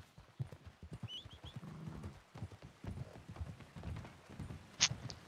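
Horse hooves clip-clop in a video game, a quiet irregular series of hoof strikes with a brief whinny-like call early on and a sharp high ping near the end.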